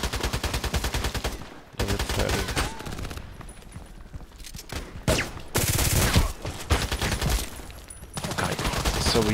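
Rapid pistol shots from a Glock in a shooter video game, loud bursts of gunfire in dense repeated volleys with short pauses, continuing through the whole stretch.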